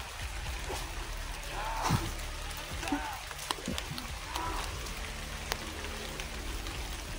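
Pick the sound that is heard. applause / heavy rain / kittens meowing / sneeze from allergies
heavy rain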